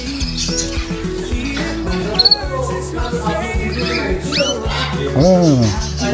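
Many small birds chirp and tweet constantly at close range in a London pet bird shop, high trills overlapping amid busy indoor chatter.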